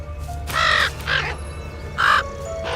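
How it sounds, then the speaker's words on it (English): A crow cawing in a pumpkin patch scene of a video game, three loud, close, harsh caws with pauses between them over a low steady background hum, no talking. "Or the crow."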